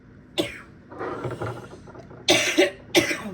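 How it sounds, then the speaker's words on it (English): Several harsh coughs from a lingering illness, close and fairly loud, spaced irregularly with short rasping breaths between them. "You'll have to excuse my coughing."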